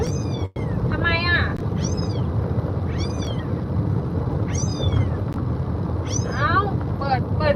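A cat meows repeatedly, six or seven clear rising-and-falling calls spaced a second or so apart, loud and close over a steady background hum.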